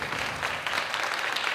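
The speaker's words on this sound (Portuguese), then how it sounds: "farta salva de palmas, por gentileza," Steady audience applause fills the short stretch, a dense, even wash of clapping hands heard at moderate distance without any voices over it.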